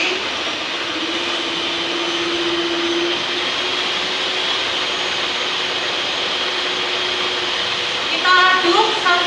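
An electric mixer beats eggs with vanilla at high speed, giving a loud continuous motor whine that holds steady, with a brief clatter near the end.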